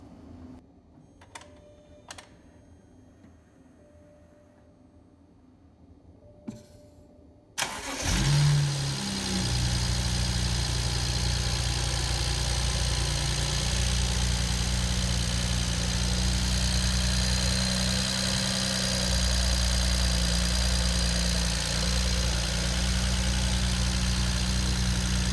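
A BMW engine cranks and catches about eight seconds in after a valve cover gasket replacement, then settles into a steady, loud idle that runs on unbroken after a few quiet clicks and taps.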